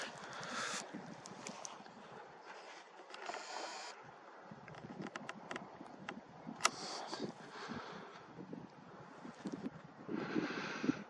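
Gusty wind buffeting a microphone outdoors at a telescope on a tripod, rumbling and roaring in uneven bursts with faint rustling in the background.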